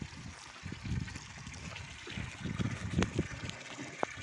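Irrigation water flowing by gravity into a system and tank on a farm in Brazil's northeast, a faint, close trickle and gurgle running steadily with small splashy bursts.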